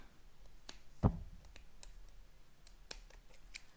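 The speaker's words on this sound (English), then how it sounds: "I'm going to weave my tail in to the top and then just trim the excess" A single close snip of scissors trimming the excess yarn tail on a finished crochet eggplant, one sharp click standing alone in a quiet room.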